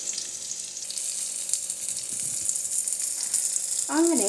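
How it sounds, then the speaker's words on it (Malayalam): Brinjal slices fry in a pan for Kerala-style brinjal fry, a steady soft sizzle and crackle of hot oil that runs throughout, with a brief voice near the end. "രണ്ട് സൈഡും തിരിച്ചിട്ട് ബ്രിഞ്ചാൾ സൈഡ് രണ്ട് സൈഡും വേവിക്കുക."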